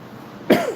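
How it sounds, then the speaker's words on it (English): A single sharp cough from a man, close and fairly loud, breaking a quiet stretch and trailing off with a faint voiced tail. "sorry about me coughing right there"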